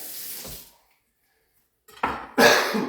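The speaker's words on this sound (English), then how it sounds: "I still got that cough from the flu." A person with a lingering flu cough in a kitchen while making Peruvian ceviche coughs twice in quick succession, close and fairly loud, after an earlier softer sound and a brief pause.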